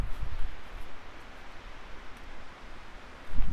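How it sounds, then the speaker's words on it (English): Steady breezy wind rushing through very large Christmas trees, a soft broadband rustle with low gusty rumble, louder at the start and again at the end. "That is the sound of the winds naturally and breezily hitting all of these gargantuan Christmas trees."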